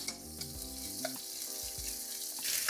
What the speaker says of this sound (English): We'll fry the onion till it's nice golden brown too, and we fry the onions on a low flame.